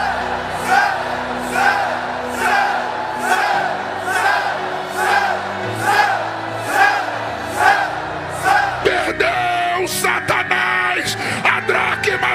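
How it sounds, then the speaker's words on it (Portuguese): A church congregation packed into a gymnasium shouts "santo" in a steady, loud rhythmic chant, about a dozen repeated cries, before the crowd breaks into a louder mass roar near the end. "Eu quero ouvir esse ginásio dizendo: santo, santo."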